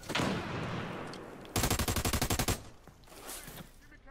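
Gunfire in an online shooter game, a dense burst of rapid automatic shots about a second long, preceded and followed by excited players' voices and game noise.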